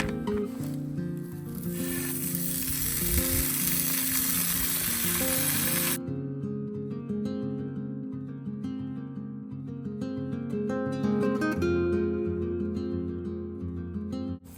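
Pepper bacon fries in a pan with a continuous crackling sizzle, and a loud burst of hissing spatter takes over the first few seconds before settling back to steady frying.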